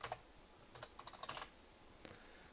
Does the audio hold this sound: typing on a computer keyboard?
yes